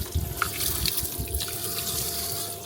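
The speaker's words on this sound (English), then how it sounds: "I am washing the filter for the water maker" Water runs steadily from a tap while a water maker filter is washed aboard a sailboat, a close continuous splashing and trickling with a few small knocks.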